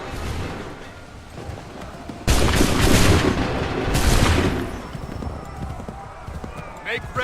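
A musket volley in Assassin's Creed 3 cracks out as a loud, ragged burst of gunfire, followed moments later by a second volley. Horses clatter and voices shout orders around it.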